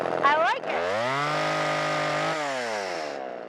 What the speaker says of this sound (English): First time with the chainsaw.